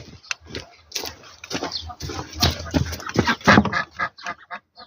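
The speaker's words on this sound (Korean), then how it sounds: "오리 엄마가 있는지 잘 잘하고 있는지 한번 체크를 해야 되니까" A Muscovy mother duck with her ducklings gives repeated raspy calls and hisses in close, irregular bursts, with soft peeping and rustling between them.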